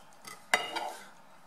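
A knife slices a rolled, hot lahmacun in two on a board, giving one short crisp cut with faint scraping around it, quiet and close, with no speech.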